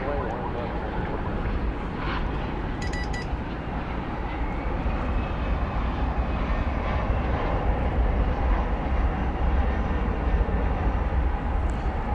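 A Boeing 787 Dreamliner airliner comes in to land at night on the east side of DFW Airport, its distant jet engines producing a steady, loud, broadband roar that runs without a break throughout.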